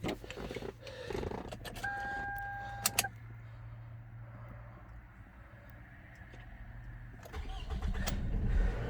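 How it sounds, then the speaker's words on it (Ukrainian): A Toyota Camry engine starting: a short chime and clicks, then a brief cranking burst that catches into a low steady idle, with a louder rev-up near the end; no talking. "Заводиться справно,"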